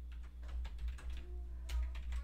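Computer keyboard keys pressed in a quick run of separate clicks while using shortcuts in Affinity Designer 2, close and fairly quiet over a steady low hum, with no talking.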